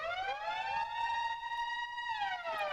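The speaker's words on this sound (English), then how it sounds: "you guys recognize that siren? That's a sample." A wailing police siren sample, the J Dilla siren, rises and falls in a smooth sweep, clear and steady with a bright harmonic tone, no voices present.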